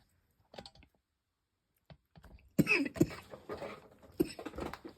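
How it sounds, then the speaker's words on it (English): A few harsh coughs from a person with asthma come close up, first brief and quiet, then a louder burst of throat-clearing coughs lasting a couple of seconds. "Pardon the coughing."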